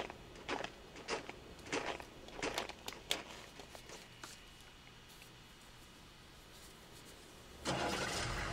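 A vehicle engine starts in the video game Chaser, with a burst of cranking and ignition noise near the end, after a stretch of scattered footsteps and small thuds.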